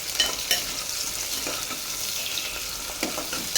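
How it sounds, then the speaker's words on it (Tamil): Sliced onions sizzle and fry in a pan as they are stirred until brown for lunch box cooking, with a steady close crackle and occasional scraping, no talking. "ஆனியன் வந்து நல்லா ப்ரௌன் ஆகிற வரைய வதக்கி விட்டுக்கலாம்."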